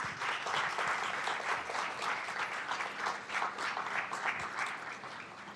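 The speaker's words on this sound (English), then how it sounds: "Can we get a big round of applause?" A town council meeting audience applauds steadily, a dense wash of many hands clapping at once, sustained for several seconds before easing slightly at the end.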